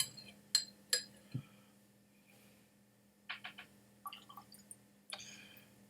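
Water is poured into a glass of blended Irish whiskey and stirred with a spoon: a few bright clinks of metal on glass, then soft drips and small splashes with more light tinkling, quiet and close.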